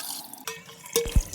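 Water drips from freshly washed rice as it drains: a few close, distinct drips and splashes over a quiet background, with no talking.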